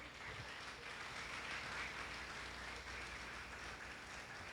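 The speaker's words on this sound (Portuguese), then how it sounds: "Você pode aplaudir o Senhor Jesus?" A church congregation applauding during a sermon, heard as a faint, distant, steady wash of many hands clapping, dense and even like rainfall, with no voices standing out.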